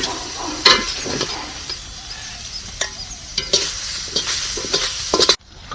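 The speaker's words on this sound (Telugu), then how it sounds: "ఇబ్బంది పల్లీలండి, పల్లీలు వేసినండి నూనెలో." Peanuts sizzle and crackle in hot oil in a pan while bitter gourd fry is being cooked, a steady close frying hiss broken by several sharp stirring clatters before it cuts off abruptly.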